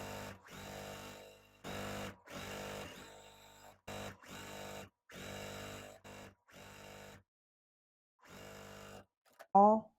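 A sewing machine stitches quilt block pieces together in repeated short runs of humming, stopping and starting with brief pauses, fairly close and moderately quiet.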